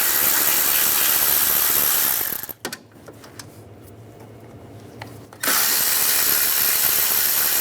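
A power tool whirs continuously on the bolts of a 2006-2009 Mercedes-Benz E350 alternator, close and loud, stopping for a few seconds midway with light clicks before starting again.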